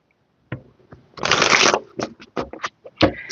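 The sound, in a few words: tarot cards being shuffled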